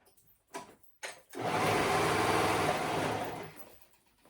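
A sewing machine stitches the side seams of a flounce top, opening with two short knocks before a steady motor whir runs for about two seconds and then fades off.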